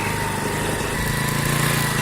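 A small outboard motor on a micro boat runs steadily and loudly up close, a buzzing, droning engine hum with a slight rise in pitch near the end; it cannot rev past about 60% throttle.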